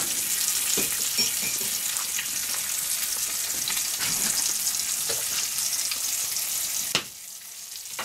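Home-butchered pork bacon fries in a pan with a steady dense sizzle and crackle for several seconds, then a sudden clink and the sizzling drops quieter.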